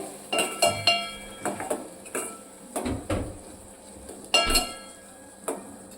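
Spices and red chilli stirred and sautéed in a pan for a traditional Gujarati moth bean curry: a series of close metallic spoon clinks and scrapes against the pan, uneven in rhythm, with no voice.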